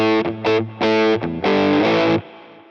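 Distorted electric guitar riff played straight, with chunky palm-muted bursts and sustained ringing chords in short phrases, loud and close, no talking.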